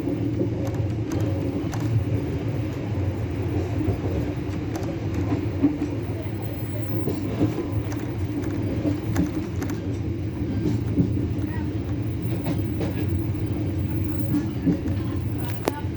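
An economy-class KA Airlangga passenger train rolling along rails in Central Java, a steady low rumble and rattle heard from inside the carriage with faint clacks, continuous throughout.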